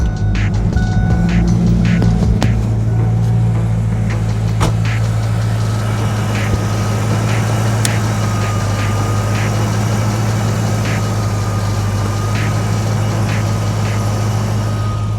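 A 1993 Ford Mustang Cobra engine idling smoothly and steadily at close range, a constant low rumble with faint ticks and clicks over it, no talking.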